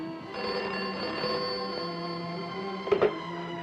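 A telephone rings with a steady electronic bell tone, fairly close, under quiet background hum, with a brief clunk near the end.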